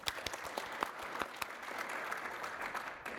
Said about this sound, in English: Still give her applause